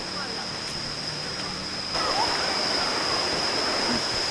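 A waterfall near Pai, Thailand, roars as a steady broadband rush close by, growing slightly louder partway through, with a faint high whine running throughout.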